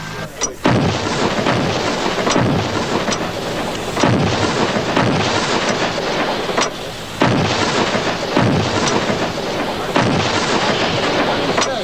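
Artillery preparation fire booms out in four heavy, evenly spaced blasts roughly three seconds apart, each a loud thudding crack that rolls off into a rumbling decay.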